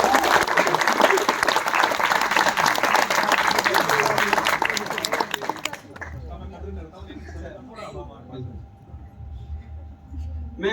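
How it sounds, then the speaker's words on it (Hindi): Loud, sustained applause from an audience at a Hindi shayari recital about Lord Krishna, dense clapping filling the hall for several seconds before cutting off abruptly into quieter room sound with a voice speaking. "एक बार तालियां बजाकर मुझे शुरू करें।"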